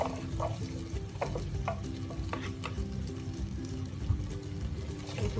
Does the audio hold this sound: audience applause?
no